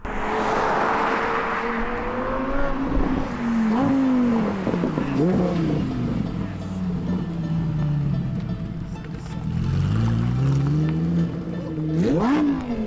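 A Lamborghini Performante sweeps past at close range, its engine rising and falling in pitch through several revving surges before a final sharp, loud blast as it passes and pulls away.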